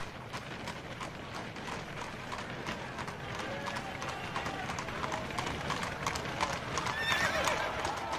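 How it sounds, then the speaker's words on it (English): Hooves clop rapidly and steadily as several horses pull a horse-drawn hearse, with a horse neighing loudly toward the end; a voice speaks over them. "the horse-drawn hearse bearing Wenceslas's body entered Prague, the horses suddenly stopped in front of the main prison."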